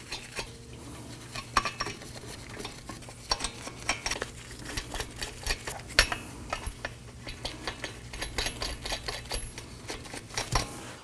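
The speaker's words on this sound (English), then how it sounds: "Let's go ahead and snug them down." Lug nuts being snugged down on a 2018-2024 Toyota Camry front wheel: a run of close, sharp metallic clicks and ratcheting clinks, irregular and busy for the whole stretch, with no talking.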